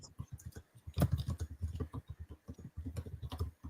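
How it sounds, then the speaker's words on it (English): Quick bursts of computer keyboard typing heard up close, a dense run of clicky keystrokes with brief gaps and no voices over them. "We can hear you typing, bro."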